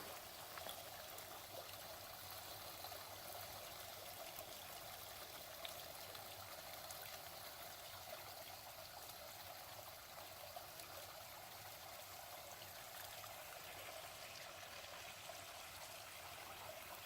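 A small forest creek babbles and trickles steadily beside a trail, a continuous close wash of running water with no talking over it.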